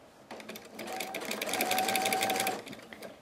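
Close-up sewing machine stitching a fabric bias binding, one continuous run of about two seconds that rises and then eases off, with no talk over it.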